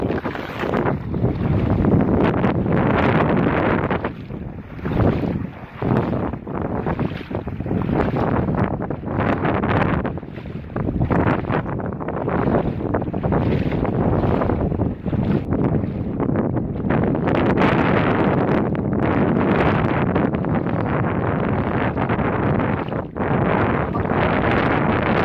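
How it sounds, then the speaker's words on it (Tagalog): Strong wind at a riverside while hunting for river shells batters the microphone, a loud continuous roar with surging gusts lasting throughout, with no voices over it. "malakas na naman yung hangin"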